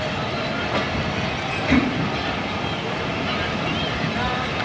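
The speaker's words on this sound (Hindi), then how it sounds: "तो ट्रेन ने डिपार्चर विसल देने बाद डिपार्ट कर रही है टंडो आदम जंक्शन रेलवे स्टेशन से।" Rehman Baba Express departing Tando Adam Junction, a steady rolling rumble of railway carriages with faint wheel clatter, heard from on board and continuous at moderate loudness.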